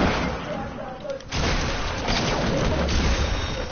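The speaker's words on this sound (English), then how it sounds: "I need to deal damage with this grenade." A grenade goes off in a shooter video game: a loud, broad blast bursts in after about a second of quieter game noise. Dense rumbling battle sound then carries on to the end.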